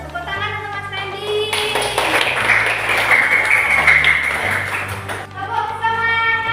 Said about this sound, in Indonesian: Tepuk tangan untuk Mas Randy